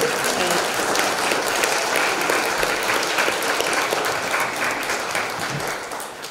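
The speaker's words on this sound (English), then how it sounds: "So let's give a big round of applause to Soin." Sustained applause from an audience fills the room, a dense, steady wash of many hands clapping together that begins to taper off toward the end.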